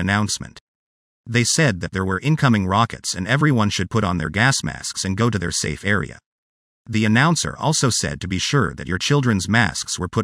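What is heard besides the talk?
No distinct noise like a dog, phone or traffic.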